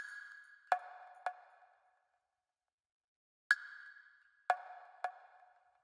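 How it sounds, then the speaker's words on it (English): Small percussion samples from a drum rack with light reverb, a few sparse, bright ticking hits in two short clusters separated by a gap, faint and alone. "So you can see just like little percussion samples in the drum rack."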